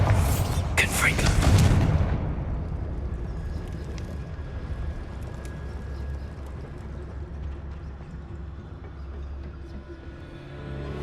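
A loud, booming fire-spell blast erupts at the start of a Hogwarts Legacy fight, a crackling burst that rolls off into a low rumbling ambience lasting several seconds.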